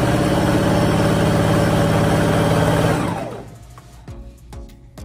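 A sewing machine runs continuously while stitching the casing of a ribbon-trimmed tutu, a loud, close, even mechanical hum that stops after about three seconds, leaving faint handling sounds.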